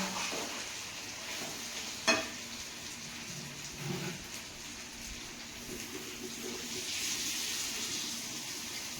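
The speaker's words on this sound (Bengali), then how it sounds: "মাংস কষানোর পরে চটপট শব্দ হলে জানবে যে জল দেওয়ার মতো হয়ে গেছে" Beef pieces being browned in a pan give a continuous close sizzle and crackle, with a few soft knocks and scrapes of stirring, and no talk.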